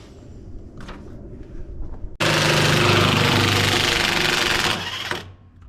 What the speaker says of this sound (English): Use a 42mm socket to remove the factory pitman arm nut.